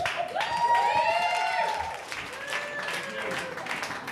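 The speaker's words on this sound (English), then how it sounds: "You're right to applaud" A comedy club audience claps for a stand-up comedian taking the stage, dense steady applause with a few whoops layered over it and continuing under a voice for several seconds.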